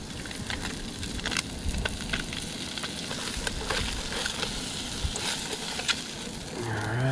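Butter sizzling and frying in a pan over a campfire on a deserted island, a steady crackling hiss with scattered pops and spatters, plus a brief clatter of cookware near the end.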